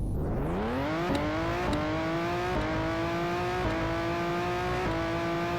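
A Supra engine in the racing game City Racer accelerates through a rising whine, climbing in pitch and dropping back at each of several quick gear shifts, steady and alone without talk.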